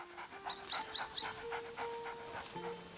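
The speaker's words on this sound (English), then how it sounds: "Let's pet the dog." A dog in the video game A Plague Tale: Innocence pants rhythmically and close while being petted, with tonal whines or game music running underneath.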